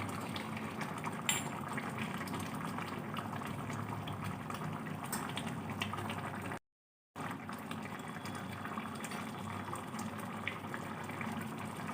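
Fish curry with coriander and cumin powder bubbles and simmers in a pot, a soft, steady boiling hiss with a brief silent gap partway through.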